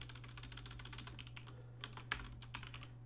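Rapid keystrokes on a computer keyboard tap out a short folder name, a quick run of close, crisp clicks over a steady low hum.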